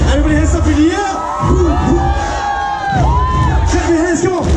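Party crowd at a full house roaring and cheering loudly in response to a DJ, with continuous shouts and whoops rising and falling across the few seconds.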